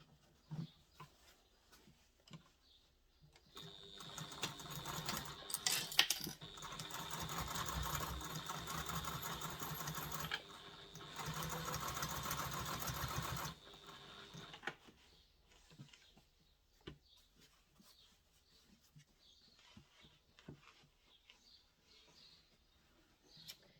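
A sewing machine top-stitches a seam on a fabric baby diaper bag, running in a steady loud burst of several seconds after quiet handling sounds, then stopping and falling back to faint rustling.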